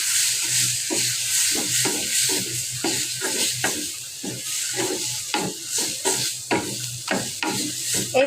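Taro stems and greens fry with hilsa fish in a pan, a steady hiss of sizzling oil broken by rhythmic scraping strokes of a spatula stirring close by.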